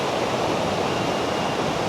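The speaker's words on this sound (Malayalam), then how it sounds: "എന്തായാലും നല്ല ഫോഴ്സിലാണ് ആ വെള്ളം ഒഴുകി അങ്ങ് പോകുന്നത് കേട്ടോ" Water pours out of a dam shutter with strong force, a steady, dense and loud roar that never lets up, with no voices over it.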